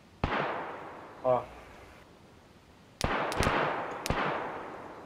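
Sharp gunshots in DayZ Standalone ring out, a single crack early, then a quick burst of several shots with short echoing tails; a brief voice blip sounds between them.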